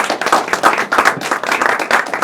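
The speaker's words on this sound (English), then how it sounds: "Give a big round of applause to Grant." An audience at an investors summit keynote address claps in a dense, steady burst of applause lasting a couple of seconds, close and fairly loud with no talking over it.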